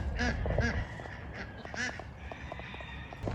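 Several ducks quack nearby in short, scattered bursts, soft and close against a quiet outdoor background.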